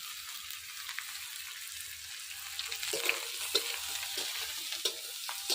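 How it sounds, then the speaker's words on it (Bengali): Steady sizzling and crackling of onions and potatoes frying in a hot pan, with occasional scrapes and clinks of a spatula stirring through it. "করলে আলু ভাজা হওয়ার মধ্যে এবার পেঁয়াজ গুলো দিয়ে দেবো"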